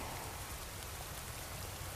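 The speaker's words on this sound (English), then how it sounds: "This is all the water that's been lifted up off the ocean in the past few days because of the heat that's been carried inland, and it's now falling on top of me." Heavy monsoon rain pours steadily onto sand, a dense continuous hiss of large drops with no pauses, fairly soft in level overall.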